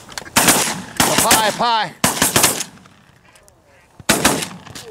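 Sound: shotgun shots at ducks during duck hunt

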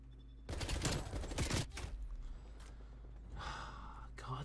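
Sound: gunfire in a gunfight, from the video game Black Ops Cold War

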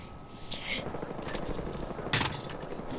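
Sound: AKM gunfire in video game Battlefield Hardline

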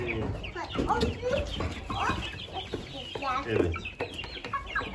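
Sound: black Hint çapar chickens clucking

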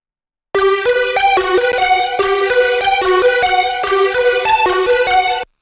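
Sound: dry Serum synth patch, Evo Longreese wavetable with unison

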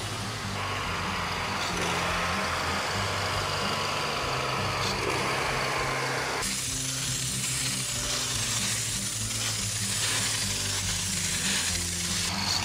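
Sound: 30 horsepower pressure washer motor cleaning a tile roof

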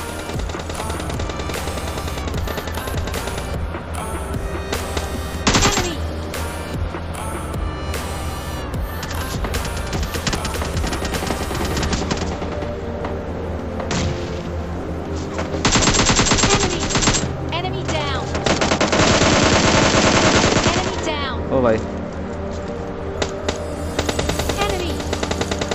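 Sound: gunfire during intense fight in PUBG video game

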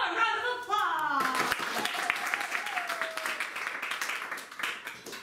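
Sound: audience applause

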